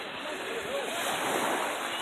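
Surf on a Cape Cod beach on the Fourth of July, water washing up the shore; a steady, soft wash and hiss with wind noise, while a person talks briefly over it.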